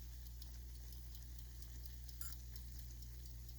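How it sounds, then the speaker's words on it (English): A small kitchen timer ticks in a steady, quick rhythm, faint and close, beside a stovetop pot at a rolling boil, all over a constant low hum. "Can you hear it ticking?"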